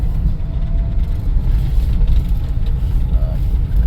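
A 1984 Dodge Mini Ram truck with worn-out suspension cruising in second gear, giving a steady, close, low engine and road rumble with no clear shifts or pauses.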